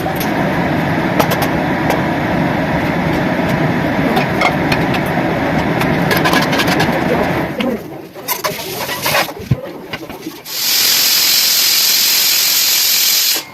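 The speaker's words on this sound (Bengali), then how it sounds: "এটা এখন আমি প্রেসারে দিয়ে দিলাম" Mutton curry cooks in a pressure cooker, which gives a loud, continuous hiss of steam that thins out briefly and then returns at full strength toward the end.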